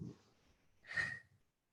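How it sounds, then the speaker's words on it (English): Heavy breathing during a home workout of rows, cleans, squats and presses: one hard, breathy exhale surges near the mic after a fainter breath, then trails off into quiet. "You can hear me breathing hard."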